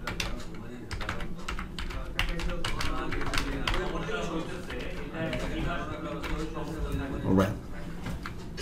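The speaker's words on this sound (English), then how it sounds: "So I'm clicking and typing here." Someone types quickly on a computer keyboard while formatting a Word document, with steady clattering keystrokes and clicks running under a person's talk.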